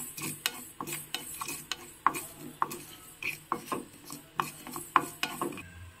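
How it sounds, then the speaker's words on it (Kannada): About three quarters of a spoon of fenugreek seeds are stirred in a hot pan, a spoon scraping and rattling across the metal in steady, rhythmic strokes with sharp ticks, close and quiet, with no speech. "ಇದಕ್ಕೆ ಒಂದು 3/4 ಚಮಚ ಆಗೋಷ್ಟು ಮೆಂತ್ಯ ಕಾಳುಗಳನ್ನು ಹಾಕಿ ಇದನ್ನೀಗ ಚೆನ್ನಾಗಿ ಹುರ್ಕೋಬೇಕು"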